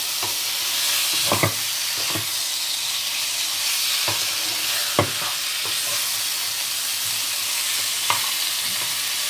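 Chicken fries in a pan for a Bengali-style chicken ghonto, a steady hiss of sizzling with occasional sharp scrapes and taps as it is stirred.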